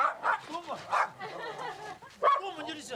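Dogs bark and yip excitedly at a tiger in a snowy wild setting, several close, sharp barks in an irregular burst with whining in between, a voice talking among them.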